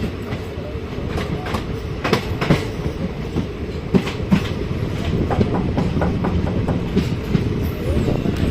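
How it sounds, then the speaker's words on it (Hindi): The Ranikhet Express rolls into Dahar Ka Balaji railway station, a steady rumble of wagons with repeated clickety-clack wheel beats over rail joints, close and loud throughout. "अभी हम पहुंच चुके हैं डहर का बालाजी रेलवे स्टेशन पर"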